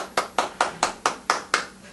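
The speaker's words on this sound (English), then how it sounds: "Big round of applause for him." Sharp, regular handclaps greet a co-host introduced at a live-filmed show, about seven claps in quick succession, close and crisp, like a single pair of hands clapping steadily with no voices over them.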